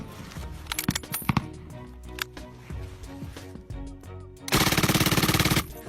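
A general-purpose machine gun fires short bursts and single shots, ending in a loud sustained rapid-fire burst, with sharp reports close up and no speech.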